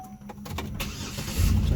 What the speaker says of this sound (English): Turn the car on first.